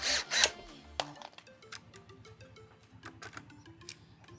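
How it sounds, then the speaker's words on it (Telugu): Screws are driven in to mount a Trueview solar CCTV camera: a couple of sharp loud tool bursts at the start, then a rapid, fainter mechanical rattle that continues steadily to the end. "మీరు ఇంకా 4 స్క్రూలు వేసుకోవాలి"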